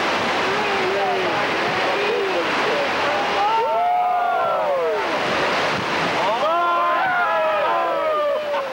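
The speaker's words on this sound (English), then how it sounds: "The Colorado River charges through the canyon with a vengeance, a watery assault that lasts over 200 miles" The Colorado River rushes through the Grand Canyon as a loud, steady roar of churning whitewater with wind buffeting, while high whistling bird-like calls rise and fall over it.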